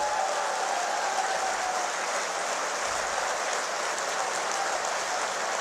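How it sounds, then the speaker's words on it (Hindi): A large crowd at a statue unveiling ceremony claps steadily and continuously, a dense, even roar of applause with no voices standing out. "एक बार मेरे कहने पर लगातार 1 मिनट तक ताली बजा दीजिए"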